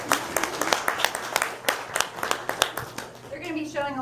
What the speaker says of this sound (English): I want to applaud them every time they do anything, but let's keep the applause to the end from now on.